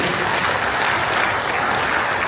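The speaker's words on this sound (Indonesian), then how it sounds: "tepuk tangan dulu buat seluruh warga diaspora dulu" A large audience of NTT diaspora members in Kalimantan, gathered for a Christmas and New Year celebration, claps loudly and continuously in a dense, even wash of applause.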